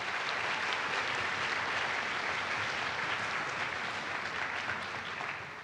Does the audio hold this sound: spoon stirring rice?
no